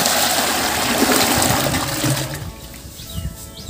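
Hot water pours and splashes steadily into a container in a village cattle shed, a loud gushing stream that tapers off abruptly, leaving a quieter trickle.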